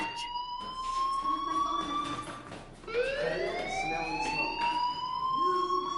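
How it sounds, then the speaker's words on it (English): Fire alarm ringing in the Life is Strange video game, a wailing siren-like tone that rises and sweeps repeatedly over six seconds, moderately loud with some background noise. "do you hear that fire alarm? That means you should be outside."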